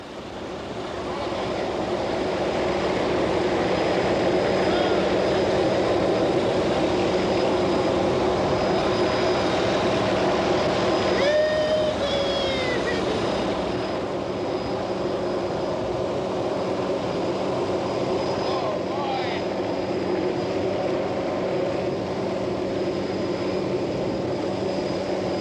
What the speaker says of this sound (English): The helicopter cannot land at the bottom, so Kathy and Jorge will fly in, suspended inside a rope birdcage